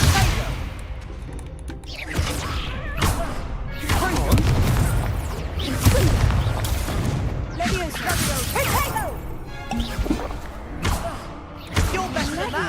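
Confringo fire spells exploding in Hogwarts Legacy, a run of heavy booms and crashing blasts at irregular intervals, mixed with combat noise and spoken lines throughout.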